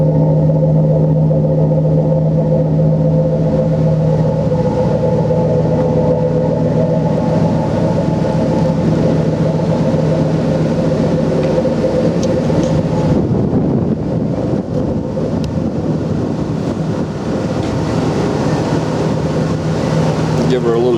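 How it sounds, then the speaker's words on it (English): A Ford F250 XL 4WD pickup truck idles with a steady low droning exhaust through its muffler, a continuous near rumble with sustained tonal hum and no breaks. "I don't know what kind of exhaust muffler system is on here."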